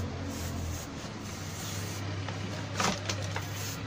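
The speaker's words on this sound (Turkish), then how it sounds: "Borumuzun çöp kutusunun içine sprey boya sıkıyoruz." Spray paint hisses onto a PVC water pipe held inside a trash bin, a steady close-up hiss over a low hum that pulses a little louder in short bursts toward the end.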